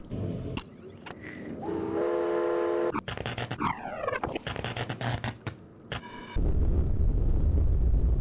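Hissing steam effect from the realMyst: Masterpiece Edition video game, a broad noisy roar that swells in loudly near the end after a run of whistling, tonal and sweeping game sounds.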